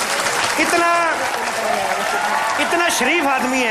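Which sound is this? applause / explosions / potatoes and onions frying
applause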